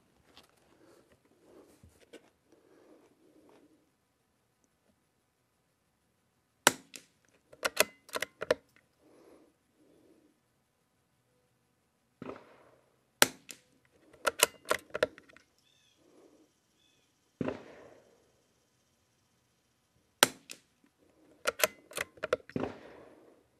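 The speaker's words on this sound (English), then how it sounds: "got 5 shot groups, got the old gemtech suppressor on" Suppressed rifle shots from a Lithgow LA101 and a CZ455 fitted with an old Gemtech suppressor, firing five-shot groups: sharp, short cracks arriving in tight bursts of three to five with quiet gaps between, fairly close, with faint murmuring at the start.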